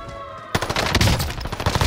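Gunfire in the Call of Duty video game on Rebirth Island: a sudden burst of rapid, loud automatic shots starting after a brief quiet moment and continuing to the end.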